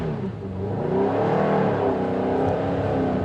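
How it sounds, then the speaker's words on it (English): A Subaru WRX STI engine labors at low revs in fourth gear and slowly builds as the car pulls away, a steady strained drone heard from inside the cabin. "what's it like to do a 4th gear pull away?"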